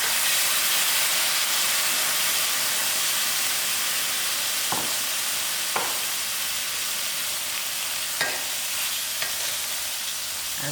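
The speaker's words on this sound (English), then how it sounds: "I'll give it a stir and allow it to fry for a few minutes." Moong dal frying in a pan, a steady loud sizzle and hiss throughout with a few faint clicks of stirring.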